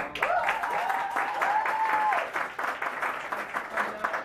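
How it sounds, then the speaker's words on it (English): A crowd at a launch event in Atlanta claps steadily for its leaders, a dense, sustained round of applause with a whistle or cheer rising briefly over it and voices mixed in. "Let's give these leaders a round of applause."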